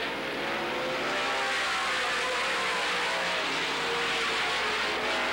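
Race cars circling the track at Las Vegas Speedrome during the 1985 Sunkist Fall Classic main event, a dense steady engine roar from several cars at once, heard from the stands without a break.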